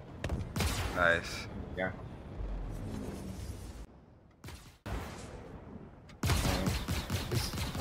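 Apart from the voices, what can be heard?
gunfire in the video game Star Citizen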